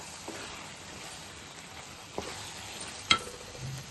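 Eggplant and chana dal masala curry with curry leaves cooking in a pan, a soft steady sizzle with occasional stirring clicks and a sharp scrape near the end.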